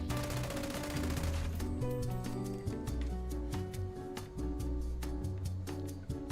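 A quad minigun fires in rapid sustained bursts in Fallout 76, a fast rattling stream of shots over a busy, loud combat soundscape with music.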